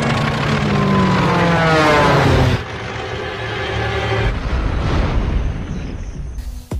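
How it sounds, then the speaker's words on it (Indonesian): A plane about to crash in the series Lost, a loud roaring rush of engine noise that builds and then drops off sharply, followed by a rumbling, crackling wash and a final abrupt burst. "tiba-tiba saja John melihat sebuah pesawat yang akan jatuh."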